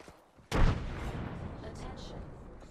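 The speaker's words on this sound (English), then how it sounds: "Throwing frag" A frag grenade in a video game bursts with a sudden loud boom about half a second in, then a long rumbling decay with faint game voices under the tail.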